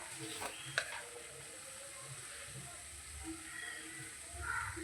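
Spice masala for doi katla, a Bengali fish curry in yogurt, sizzles and fries in oil while a spoon stirs it with soft scraping, a steady close hiss with a few sharper clinks and faint background voices.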